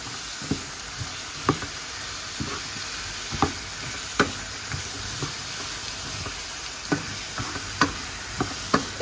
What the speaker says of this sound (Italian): possiamo aggiungere i ceci cotti. Mischiare bene il tutto.